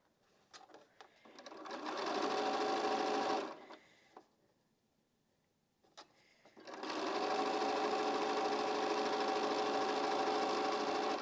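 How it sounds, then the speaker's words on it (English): A sewing machine chain-pieces quilt blocks for a charm-pack quilt. It runs in two long, steady whirring bursts separated by a pause with soft handling clicks, close and fairly loud. "I'm just chain piecing all of these."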